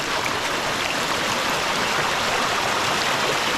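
A stream on a coffee estate runs steadily over a simple stone weir, giving a continuous, even rush of splashing water at close range with no pauses.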